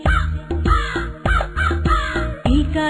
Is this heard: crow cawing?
yes